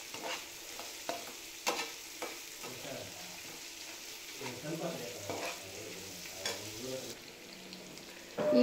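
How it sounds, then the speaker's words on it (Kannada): Onions sizzle in hot oil in a pan over a medium flame while a spoon scrapes and stirs them, giving soft intermittent knocks over a low continuous fry, close and moderately quiet. "ಈರುಳ್ಳಿ ಫುಲ್ ರೆಡ್ ಆಗೋವರೆಗೂ ಚೆನ್ನಾಗಿ ಫ್ರೈ ಮಾಡ್ಕೋಬೇಕು."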